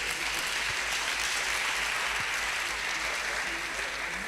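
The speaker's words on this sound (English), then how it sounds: "Please a round of applause for him." Steady, dense applause from a large crowd, continuous and even throughout with no breaks.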